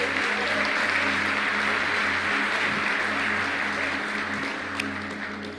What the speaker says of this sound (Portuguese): Uma salva de palmas pro Thiago Rocha